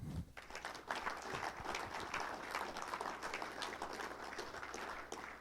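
An indoor audience at a winter farming presentation breaks into sustained applause, a dense, even wash of many hands clapping that holds steady throughout with no talking.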